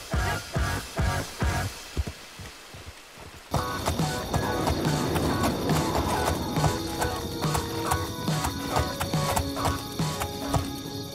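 A Legion steed in a video game, hooves clip-clopping in a sparse rhythm, then joined by busier layered game sounds and music with the hoof steps continuing underneath.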